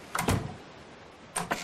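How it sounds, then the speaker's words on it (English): Wooden doors in ARK Survival Evolved bang open and shut in two quick pairs of soft thuds, separated by a quiet gap. "It's a game of musical doors now."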